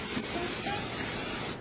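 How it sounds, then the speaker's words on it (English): A short, steady hiss of an aerosol cooking spray being sprayed continuously onto a 9x13 baking pan for about a second and a half, close by. "We're going to go ahead and spray down a 9x13 pan"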